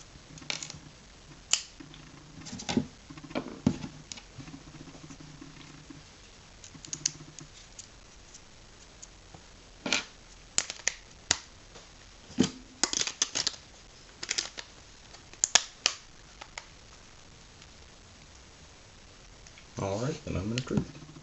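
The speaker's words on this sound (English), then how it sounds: "put in the SIM card, put in the micro SD card, put in the battery, put on the back plate" HTC Rezound phone being reassembled with its SIM card, micro SD card, battery and back plate fitted, giving scattered small plastic clicks, snaps and taps at close range, with someone talking at points.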